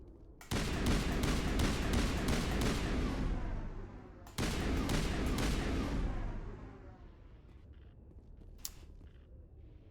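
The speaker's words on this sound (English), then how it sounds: "Gunfire definitely audible." Gunfire in the video game Mass Effect: rapid bursts of loud, close automatic shots in two long volleys, each trailing off into rumbling echo, followed by quieter ambience and a single sharp click near the end.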